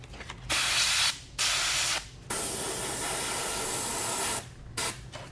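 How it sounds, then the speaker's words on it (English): An airbrush sprays paint for a flame design on a car in steady hissing bursts, several short sprays and one long continuous spray, close and fairly loud with no talking. "Now all I'm going to do is I'm going to kind of spray these little hot spots in here."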